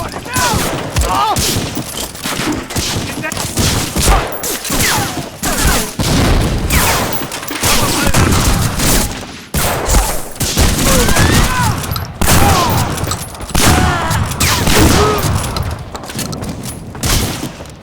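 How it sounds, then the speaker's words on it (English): Loud, dense battle noise from the Medal of Honor: Frontline video game, with grenade blasts and booms among continuous gunfire that runs the whole stretch. "Oh, those are grenades."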